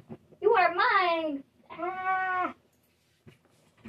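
A cat gives two drawn-out meows close by indoors, the second one steadier and more level, followed by a short pause and a faint click.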